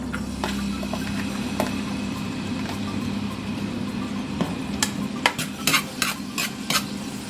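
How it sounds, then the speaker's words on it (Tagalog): Garlic sautéing in a pan for seafood pancit bihon, a constant close sizzle with intermittent utensil clinks and scrapes growing busier toward the end, no voices. "Ngayon ay maggigisa tayo. Ayan po. So, unahin natin yung bawang."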